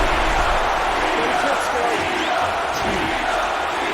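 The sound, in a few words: crowd cheering in video game UFC Undisputed 3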